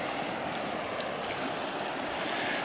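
Fast-flowing flash flood water rushes through a village, a loud, steady broadband roar of churning current heard up close with no pauses, partly buffeted by wind.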